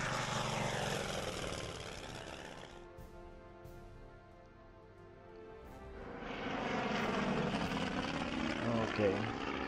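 Bomber aircraft engines in a Pacific naval war strategy game set during the Pearl Harbor attack give a steady propeller drone that thins out midway, then swells back to a fuller roar.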